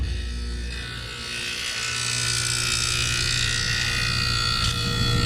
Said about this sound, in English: I'm going to bring my yellow on to make my compressor contactor pull in